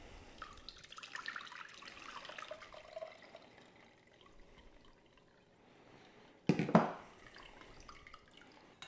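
Excess liquid from homemade cottage cheese tipped out over a bowl, a brief close splash and pour lasting about a second after quiet handling noises.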